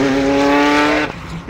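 A Ferrari F40 fitted with straight test pipes instead of a muffler roars loud and close with a steady, raspy engine drone that suddenly cuts off and leaves a brief lower rumble.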